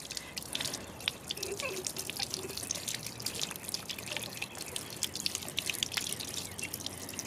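Rainwater from a rain barrel splashes and drips steadily while a glass chick waterer is rinsed outdoors, a continuous close trickle with scattered drips and no talking.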